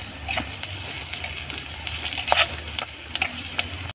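Onion and crushed garlic frying in a pan for zunka, a steady close sizzle with frequent stirring scrapes and light metallic taps throughout, no talking.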